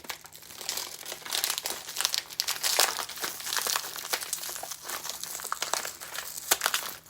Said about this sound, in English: So we're going to add that in if I can get the packaging open.